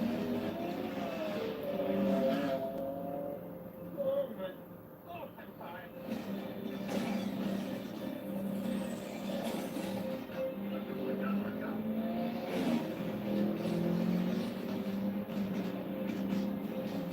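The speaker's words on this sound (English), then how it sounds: "Transformers, car chase scene." Car chase scene from the film Transformers played back through a projector setup, engines revving and tires squealing amid music and effects, with a voice talking over it.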